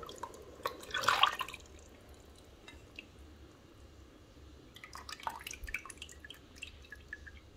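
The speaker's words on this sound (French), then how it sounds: "je viens renverser le jus d'arachide que j'ai mélangé" Mixed peanut juice is poured into a beef peanut sauce for mafé, giving a wet splash and dribble near the start, then soft drips and bubbling sizzle.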